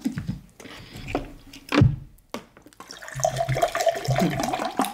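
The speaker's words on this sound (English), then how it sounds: "Please let me serve you water." Water is poured into a cup or glass at a meal of fufu and pounded yam, a close trickling, splashing stream rising in pitch as the vessel fills, preceded by a few knocks and clinks.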